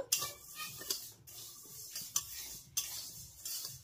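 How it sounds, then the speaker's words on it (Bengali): Moong dal dry-roasting in a wok over medium-low flame, stirred continuously: dry grains rustle and scrape with repeated spatula strokes and light clinks against the metal, steady and close, with no talking. "এবার মিডিয়াম লো ফ্লেমে এই ডালটাকে এইভাবে অনবরত নেড়েচেড়ে আমি খুব সুন্দর করে ভেজে নেব"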